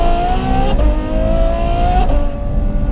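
A Novitec N-Largo Ferrari F12 with a straight-through titanium exhaust revs hard and close, the engine note climbing, dropping briefly, then climbing again in two strong pulls.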